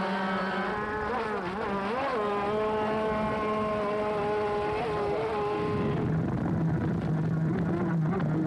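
A high-pitched engine whines steadily, pitch wavering up and down as a radio-controlled offshore racing boat runs in the 2003 Viry 24-hour race, with a rougher, lower roar taking over near the end.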